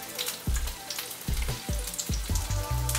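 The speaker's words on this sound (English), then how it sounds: "We're gonna put it in our pan with some olive oil." A grouper fillet sizzles and spatters in a pan of hot olive oil, a steady close crackle with several sharp low thumps from handling in the pan.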